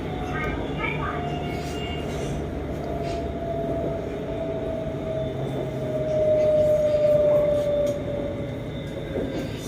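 A Bangkok MRT Blue Line metro train runs with a loud, continuous rumble and rail roar, a thin wheel whine rising and falling, and a swell partway through, close and steady throughout.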